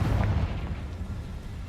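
A Confringo spell explosion in Hogwarts Legacy lands as a deep, loud boom at the start and rolls off into a rumbling tail for under two seconds, with no voices.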